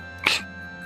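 One loud, short cough from a cartoon character, sharp and close, standing alone over a soft steady background tone.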